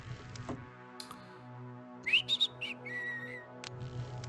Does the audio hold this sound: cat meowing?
no